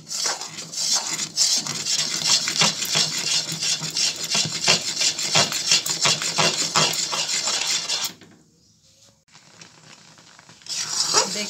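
Kudrum jam is stirred in a pan, giving a loud, steady scraping and rubbing close up for about eight seconds, then a short pause before the stirring resumes.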